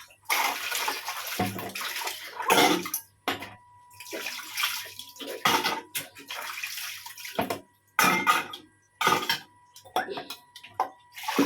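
Clothes being washed by hand in water, with irregular splashing, sloshing and wringing bursts close by, separated by short pauses, and a voice talking at times between them.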